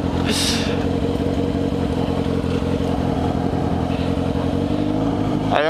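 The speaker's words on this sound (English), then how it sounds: "you think this bike's loud?" A loud motorcycle engine runs and revs continuously up close, its rough pulsing drone steady throughout with a brief clatter near the start and end.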